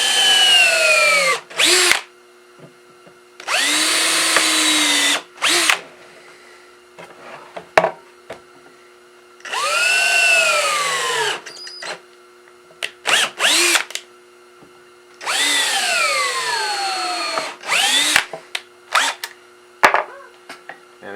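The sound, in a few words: drill boring pilot holes for screws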